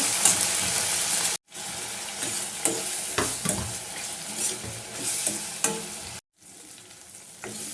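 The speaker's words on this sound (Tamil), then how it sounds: "தக்காளி நிறைய போடாதீங்க இதுவும் நல்லா மசிஞ்சு வர அளவுக்கு வதக்கி விடுங்க" Tomatoes sautéing in a pan for a pepper garlic curry, with a loud, steady sizzle and rhythmic stirring scrapes, broken by two brief silent gaps.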